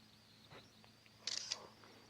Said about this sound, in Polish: Klikniemy sobie zdjęcie.